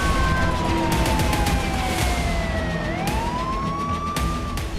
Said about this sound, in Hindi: पूरे इलाके में अलर्ट सायरन गूंजने लगे